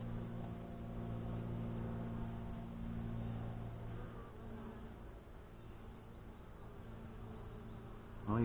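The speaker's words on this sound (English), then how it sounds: "well, we got some bees anyway." Honey bees at an open Saskatraz hive give a dense, steady buzz close to the microphone, holding evenly for several seconds before a brief louder rustle at the end.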